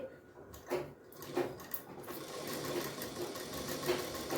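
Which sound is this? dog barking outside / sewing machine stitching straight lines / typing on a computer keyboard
sewing machine stitching straight lines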